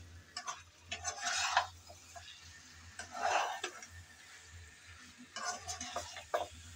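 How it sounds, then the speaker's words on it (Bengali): Potatoes and cauliflower being stirred and fried in a pan for a cauliflower dalna, with scraping bursts of utensil against pan in three separated rounds over a soft background sizzle. "2-3 মিনিট এভাবে নেড়েচেড়ে একটু ভেজে নিলে হয়ে যাবে।"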